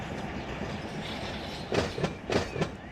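Simulated freight train running on the Selkirk route in the Run8 train simulator game: a steady rolling rumble with a few sharp clickety-clack wheel knocks and faint squeals near the end, moderately quiet.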